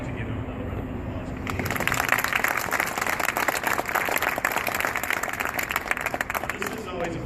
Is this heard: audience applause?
yes